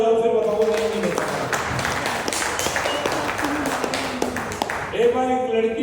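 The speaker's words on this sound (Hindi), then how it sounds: "एक बार तालियां बजाओ" An audience at a large business seminar in Goa claps together in a steady burst of applause that fills several seconds before fading as a voice resumes.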